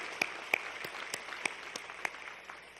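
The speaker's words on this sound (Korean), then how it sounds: "한 번 더 격려의 박수 보내주실까요?" A church congregation at a Korean Wednesday worship service gives a short round of scattered applause, faint and distant, with a few sharper individual claps standing out.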